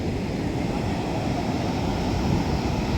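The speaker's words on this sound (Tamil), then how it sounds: "ஏன்னா ரொம்ப காற்று மழை" Strong wind and rain lash Kovalam beach in Kerala, a loud, steady broadband roar of gusts, rain and surf with constant wind buffeting on the microphone and no voices.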